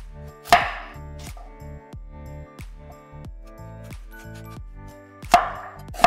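A kitchen knife chopping onion on a cutting board for a traditional Christmas roast chicken side dish, about eight steady close chops with a couple of sharper knocks, and no talking.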